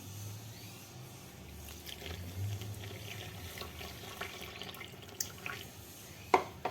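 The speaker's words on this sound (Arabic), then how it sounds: "غادي ندير الماء." Warm water is poured into a flour and yeast mixture for Moroccan layered msemen dough. The trickle and splash is soft and close, with a few small clinks and knocks near the end. No one speaks.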